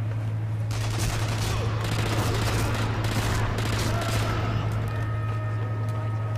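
Rapid, dense gunfire from a Thompson submachine gun in the World War II shooter Sniper Elite V2, loud and continuous, with a steady low hum underneath.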